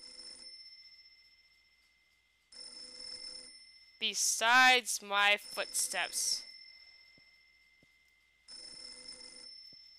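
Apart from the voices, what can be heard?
telephone ringing in the video game Mermaid Swamp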